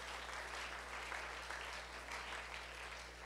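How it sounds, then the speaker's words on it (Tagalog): A church congregation at a youth leadership training seminar claps loudly and steadily for the Lord, a dense, even wash of many hands that keeps going throughout without any talking over it. "Praise the Lord sa pangmalakas na palakpak para sa Panginoon."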